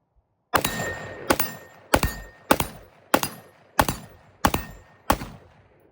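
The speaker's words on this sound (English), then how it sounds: "I'm gonna take some shots at some steel" Eight sharp gunshot impacts ringing off a hand-sized steel target about 25 yards away, evenly spaced roughly every 0.6 seconds, each a crisp crack with a short metallic decay, loud and clear with no talk.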